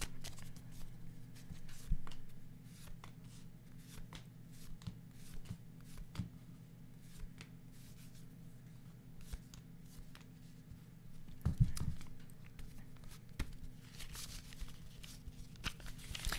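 Tarot-style playing cards being shuffled for a fortune-telling reading, a quiet, steady papery riffle and slide running throughout with a few sharper snaps, over a low background hum.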